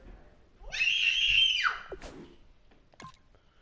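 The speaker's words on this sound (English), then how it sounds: "Why does that kid scream so..." A child gives one loud, shrill scream lasting about a second, followed by a couple of brief fainter vocal sounds in an otherwise quiet room.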